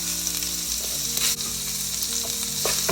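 Spring onion whites and roots hit hot oil with garlic in a pan for a tofu stir-fry, producing a loud, bright, close sizzle that holds steady throughout with light stirring clatter.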